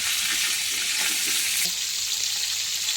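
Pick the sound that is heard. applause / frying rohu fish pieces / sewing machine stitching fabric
frying rohu fish pieces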